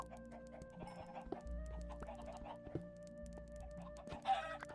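Chickens clucking in Minecraft, a busy run of short game clucks over looping background tones, with a louder burst near the end.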